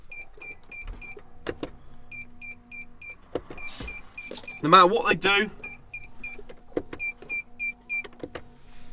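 A BMW M140i with a Pandora alarm immobiliser fails to start: repeated short electronic chimes and clicks pulse rhythmically, broken by a brief whirring, while someone talks over it.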